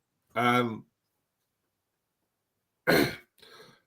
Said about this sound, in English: before I keel over with my coughing